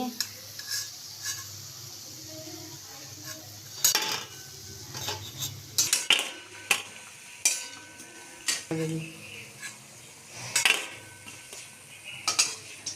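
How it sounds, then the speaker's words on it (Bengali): Crispy drumstick flower fritters lifted one by one from hot oil onto a plate, with light clinks of a utensil and scattered crackly taps over a soft, steady sizzle, fairly close. "আওয়াজটা শুনলেই বুঝতে পারবেন যে কতটা ক্রিস্পি হয়েছে যে আমি প্লেটে তুলে নিচ্ছি"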